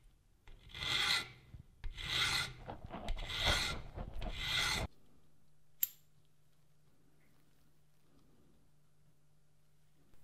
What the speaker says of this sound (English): I then got busy and filed it to make it a nice fit.